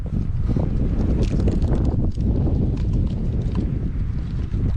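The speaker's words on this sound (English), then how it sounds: "the wind's coming from the right direction for Kingsmere, which will keep me sheltered on this side." Wind gusts steadily at Kingsmere Lake in winter, buffeting the microphone with a loud, continuous low rumble and roar throughout and no voices.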